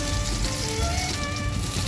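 Turkey berries (sundakkai) sauté in oil in a steel pan with a steady, dense sizzle and crackle that stays even and close throughout, with no voices.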